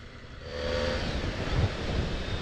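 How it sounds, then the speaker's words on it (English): Broadband wind noise rushes steadily across the microphone, rising slightly and staying loud throughout, with no voices. "Oh yes, it's very windy, isn't it?"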